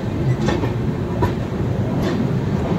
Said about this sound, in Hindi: अपनी ट्रेन का अराइवल हो रहा है गोंडा जंक्शन